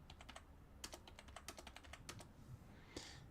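Fingers tap rapidly on a computer keyboard, a quiet run of crisp, irregular clicks in short bursts with a brief pause, close and alone.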